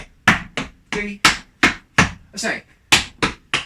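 Sharp tap dance heel steps strike in a quick, uneven rhythm, about ten crisp hits close by, with a brief spoken remark slipped between them.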